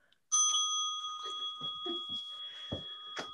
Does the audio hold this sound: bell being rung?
yes